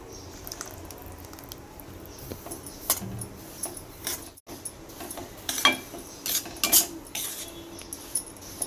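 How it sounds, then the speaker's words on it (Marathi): Semolina roasting in ghee in a heavy pan for rava ladoo, with a spoon scraping and clinking against the metal in irregular strokes over a soft, quiet background; no voices. "आता आपण त्यात थोडं थोडं तूप टाकून भाजून घेणार आहोत"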